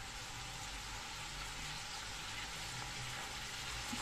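Onion frying and toasting in a pan for a three-delights rice dish with pancetta, giving a steady, close, continuous sizzle with no voices.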